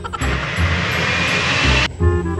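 A loud airplane engine roars with a steady, broad rush for nearly two seconds, then cuts off abruptly, leaving a low rumbling hum.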